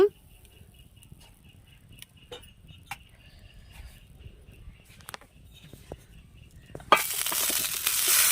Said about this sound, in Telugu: నూనె వేడైందండి, టమాటాలు వేసుకున్నాను.